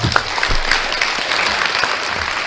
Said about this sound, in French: les applaudissements d'avant, s'il vous plaît